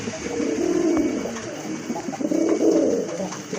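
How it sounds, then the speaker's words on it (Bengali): King pigeons cooing nearby in soft, low, rolling coos, two phrases a moment apart. "আরেক জোড়া কবুতর কিং কবুতর"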